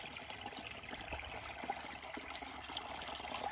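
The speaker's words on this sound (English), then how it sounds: "there is the river" A river in Estonia flows in a steady, close, broadband rush of water with light trickling texture and no voices.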